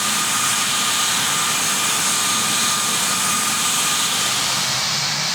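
Jet engines of the Saudia Flight 163 airliner, a Lockheed L-1011 TriStar, keep running while the aircraft sits stopped on a taxiway, giving a steady, loud broadband roar and hiss with a faint whine, unbroken and with no voices.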